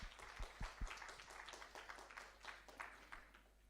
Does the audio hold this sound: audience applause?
yes